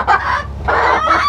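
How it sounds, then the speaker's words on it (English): A rooster fitted with a crow collar gives several loud, close, honking clucks in quick bursts, with no speech over them. "here's our rooster, and you can't even hardly tell that the crow collar's on him"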